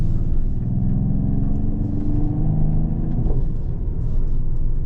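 A 2024 Mercedes-AMG GT 43 4-Door Coupe on the move, its engine giving a steady, close low rumble with a faint rising whine, continuous and without talk.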